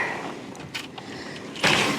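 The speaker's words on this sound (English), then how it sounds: "The door's still a little bit stuck frozen." A frozen, stuck door in a cold garden structure at -10°C is forced open, with a faint creak and scrape and then a louder rushing thud of release near the end.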